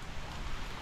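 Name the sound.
rain falling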